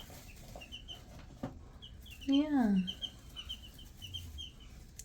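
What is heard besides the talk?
baby chicks cheeping in a hatchery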